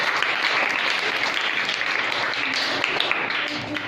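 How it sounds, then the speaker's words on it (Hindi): Children applauding at a school quiz program, a steady, dense wash of many small hands clapping together at even loudness throughout. "बहुत सारी तालियां बच्चों नवीज़ा के लिए।"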